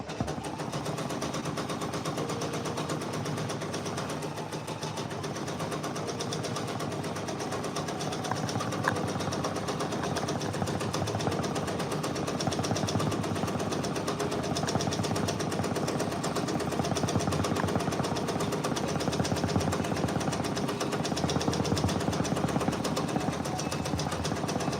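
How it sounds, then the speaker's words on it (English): An embroidery machine stitches out a Drake patch, producing a continuous rapid mechanical chatter of needle strikes with a steady motor hum, loud and unbroken for the whole stretch. "We are stitching out a Drake patch."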